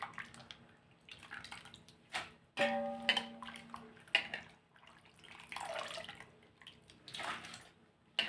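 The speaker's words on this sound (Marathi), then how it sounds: "स्वच्छ पाणी येईपर्यंत हे आपण धुवून घेणार आहोत" Sliced potatoes being washed by hand in water to rinse out the starch, with uneven sloshing, splashing and dripping that rise and fall throughout, fairly close and without talk.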